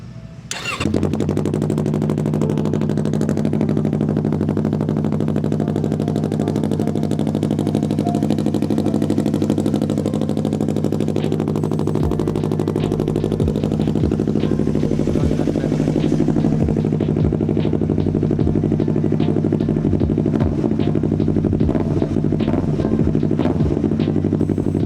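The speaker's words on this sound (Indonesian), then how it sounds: "Kayak gimana sih suaranya Yamaha Saber jadi-jadian ini yang diganti mesin R25 dengan knalpot yang anomali juga ini." A Yamaha Xabre motorcycle fitted with an R25 engine and a custom exhaust fires up and then idles loudly and steadily close by, with a few light clicks and knocks over the engine note.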